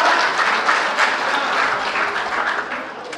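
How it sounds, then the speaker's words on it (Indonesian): Loud applause from a rally audience in Indonesia, many hands clapping in a thick sustained wash with a slight taper, and no speech over it. "Beri tepuk tangan."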